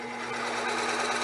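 A carbide router bit cuts into wood while shaping a ring dish, giving a steady, loud, high-pitched whine with harsh broadband grinding that holds for the whole moment without a break.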